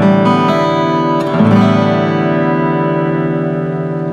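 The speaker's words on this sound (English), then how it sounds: "And the guitar strummed sounds like this with no chords," An Esteban steel-string acoustic guitar is strummed across its open strings with no chord fretted, a few quick strokes in the first second and a half, then a full ringing chord that decays slowly, played alone.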